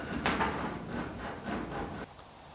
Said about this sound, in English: I'm gonna keep sanding on this.